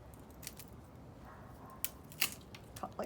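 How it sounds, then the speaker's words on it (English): Hedge-trimming shears snip through bamboo while coffee stirrers are being made, giving a few sharp, close cuts scattered over a soft background hiss. "The other tool to use is trimming shears for hedges."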